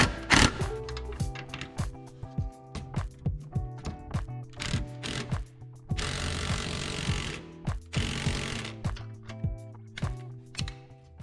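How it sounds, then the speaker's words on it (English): Running board brackets on a Toyota Highlander being tightened: a run of sharp, irregular metallic clicks and ratcheting taps, close and fairly loud, with a denser burst of rattling in the middle and no talking. "After installing the step bar, you can start to tighten the brackets beginning at the front,"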